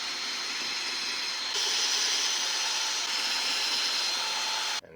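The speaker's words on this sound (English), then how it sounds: "we should always pre-drill our holes" Power drill pre-drilling screw holes in the wooden roof of a greenhouse, a steady high whine that steps up in pitch midway and cuts off abruptly at the end, fairly near with no talk.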